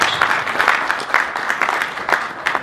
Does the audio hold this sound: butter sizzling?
no